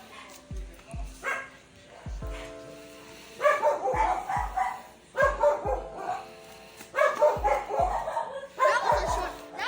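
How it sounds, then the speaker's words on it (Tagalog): Dog barking angrily at a house under construction in the Philippines, bursts of loud close barks and yips in several bouts, with voices talking in between. "Nagagalit na yung aso."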